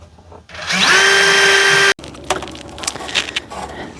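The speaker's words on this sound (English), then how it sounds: "So I'll drill 2 half-inch holes, feed the rope through it, tie knots," Power drill boring half-inch holes in wood, a loud high whine of under two seconds that cuts off sharply and is followed by faint clatter and handling noise.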